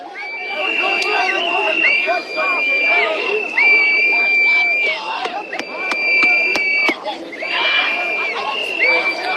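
A protest crowd in Minnesota shouts and jeers in a dense, continuous roar, with shrill whistle-like tones cutting through again and again.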